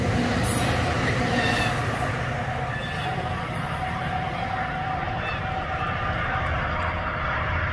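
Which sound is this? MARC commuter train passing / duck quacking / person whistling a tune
MARC commuter train passing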